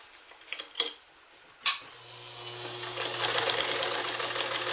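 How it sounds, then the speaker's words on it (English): A Japanese-made sewing machine stitches through four layers of denim, starting with a few clunks and clicks before settling into a steady, fast mechanical whir with a low motor hum, close and clear. "So that's 2 layers of denim, not a problem. Okay, what about 4?"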